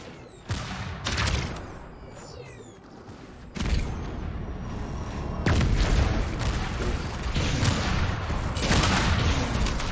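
Video game gunfire comes as sharp bursts and booming shots, loud and close, irregularly spaced, with a denser run of firing in the second half.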